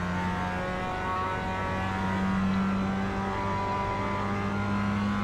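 A Mazda MX-5 engine hums at light throttle in the iRacing sim racing game, a steady, even mid-pitched drone with no sharp revs.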